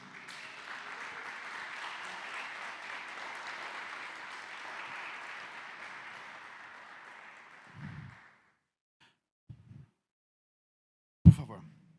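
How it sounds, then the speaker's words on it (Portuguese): Church congregation applauding during a Portuguese-language service, a broad wash of clapping that holds steady for about eight seconds and then fades out, followed by a few brief knocks and a sharp isolated thump. "Aplauda Jesus."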